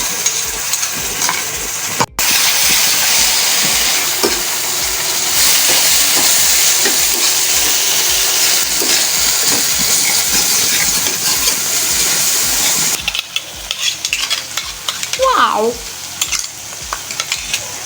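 Mint and coriander paste added to hot masala and frying on a low gas flame: a steady, loud sizzle and crackle close by that runs continuously, turning rougher and more broken near the end as it is stirred.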